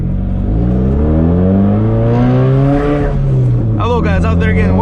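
A built 400HP Subaru accelerates hard on a road in hot weather, its loud engine rising in pitch through the gears with a shift and rev near the end, heard close from inside the car with the windows down.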